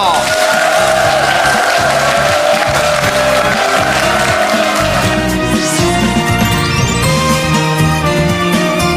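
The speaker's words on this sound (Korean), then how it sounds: "대한민국 1호 농촌 기획자 박종범 씨 큰 박수 필요합니다" An audience at an agri-food knowledge-sharing concert claps and cheers loudly and continuously, with music and voices mixed into the crowd noise.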